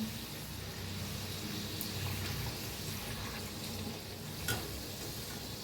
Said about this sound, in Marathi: आता दुसरं बी तळून दाखवते तुम्हाला टॅप कसं वर येर आले तेलात तळून मस्त असं